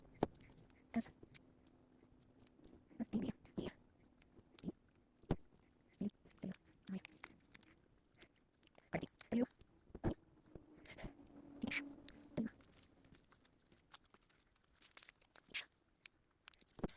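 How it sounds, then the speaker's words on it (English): Scissors snip words out of paper for a zine title: scattered sharp little cuts and papery rustles at an irregular pace, heard close and quiet with gaps between clusters of snips. "I'm gonna cut out in the words "saved with love" for the title"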